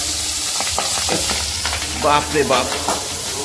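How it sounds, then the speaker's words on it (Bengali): Pabda fish sliding one by one into smoking-hot oil, with loud dense sizzling and bursts of spattering crackle that flare up midway. A voice exclaims briefly over the frying. "দেখুন কীভাবে তেল ছেটাচ্ছে"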